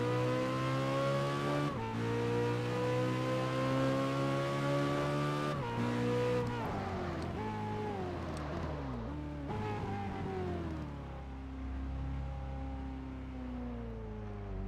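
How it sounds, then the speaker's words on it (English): A car engine revs through its gears in the racing game Test Drive Unlimited 2. The steady, loud harmonic whine climbs, drops sharply at each shift, then settles into a lower rumble, with no talk over it. "Why in this game do some cars sound realistic?"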